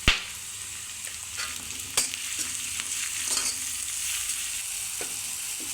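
Vegetables and peas stir-fried in a pan for fried rice, a steady sizzle broken by sharp scrapes and clacks of a spatula against the pan, close and clear with no voices.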